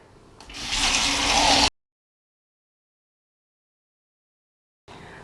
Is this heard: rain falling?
no